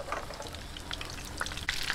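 Shrimp rolls (rellenong hipon) frying in oil over medium heat, a steady close crackling sizzle with scattered pops and brighter bursts near the end, alone without talk.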